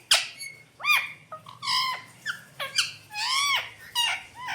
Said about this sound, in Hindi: मिट्टू मिट्टू शोर क्यों मचा रहे हो हैं?